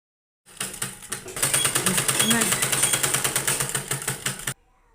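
Sewing machine stitching a strip of folded, doubled lining fabric onto a blouse, running as a fast, steady, rhythmic clatter for about four seconds before stopping abruptly.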